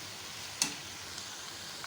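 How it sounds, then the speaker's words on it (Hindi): Sliced okra and onions fry at medium heat in a pan, giving a quiet, steady sizzle with one sharp click near the start. "अच्छी तरह से इसको फ्राई करें, मीडियम फ्राई करना है हमने।"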